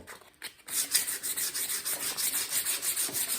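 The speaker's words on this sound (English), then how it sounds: "I'm not trying to sand it down to nothing, just want to rough it up a little bit." Sandpaper rubs back and forth over a wooden garden tool handle, roughing up the surface in a quick, steady rasping rhythm of close strokes after a brief hesitant start.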